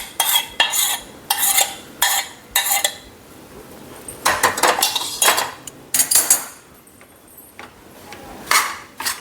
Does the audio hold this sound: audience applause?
no